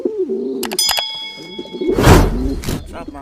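A soft, low homing pigeon coo rises under nearby talking at a loft, with a brief flutter of clatter and a gust of noise in the middle.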